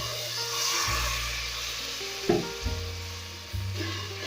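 Water goes into a hot pot of frying tomato paste, garlic and vegetables for rice and beans, raising a steady close sizzle and hiss with a couple of brief stirring knocks.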